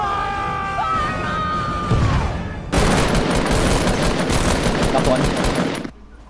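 Rapid automatic gunfire in Fortnite roars in a dense sustained burst after a shorter opening stretch, loud and close, with a voice shouting briefly over it.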